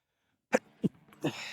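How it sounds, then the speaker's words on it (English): Short, sharp bursts from a sneezing fit during a leg day workout, two quick close explosive sneezes followed by a third, longer breathy one, quiet and otherwise silent. "Just had a bit of a sneezing fit."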